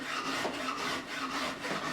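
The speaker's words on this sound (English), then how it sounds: "I'm just rolling over with the file right now." A file rubbing over the wooden neck of a Warwick Corvette Double Buck bass, a close, steady rasping scrape that swells and eases in repeated strokes, with no voices.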